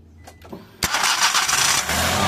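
A Suzuki DA64W van's engine cranks briefly with a couple of starter whirs, then catches and settles into a steady, loud idle right after its starter solenoid was replaced.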